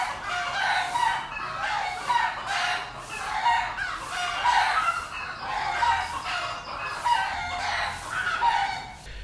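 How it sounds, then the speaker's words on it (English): About a dozen roosters crow again and again around a jungle house in Ubud, Bali, overlapping cock-a-doodle-doos from nearby and farther off with clucking between them, loud and constant. "We have at least a dozen roosters roosting and cock-a-doodle-doing from dawn until dusk."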